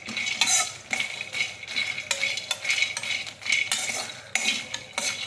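Homemade baby cereal flour mix is roasted and stirred in a pan over a medium flame. A spoon scrapes and clinks against the pan in a steady rhythm of close strokes, with a soft dry sizzle underneath.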